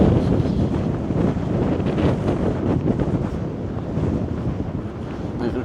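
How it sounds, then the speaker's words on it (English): Strong wind roars steadily across an exposed ridge on the Appalachian Trail, buffeting the microphone in loud, continuous gusts with no break. "We can feel the full force of the wind up here."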